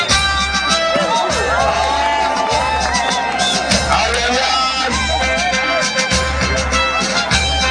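Large crowd at the 57th youth day parade in Fotouni, applauding and cheering with scattered whoops, a dense sustained roar that carries on throughout while a voice speaks over it.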